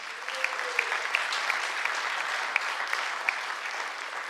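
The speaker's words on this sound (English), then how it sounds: "So let's give them a round of applause." A school audience claps for a visiting mural project group, a steady, moderately loud round of applause with a few sharper individual claps standing out throughout.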